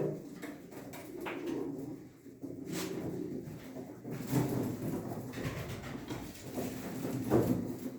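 Pigeons coo in a low, repeated murmur at close range, the soft burbling calls running steadily throughout with a few faint clacks and shuffles around them.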